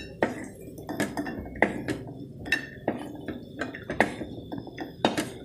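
Golden fried cashews being transferred into another vessel while making wheat halwa, with repeated clinks and scrapes of a utensil against metal cookware, close and moderately loud, roughly one knock per half second.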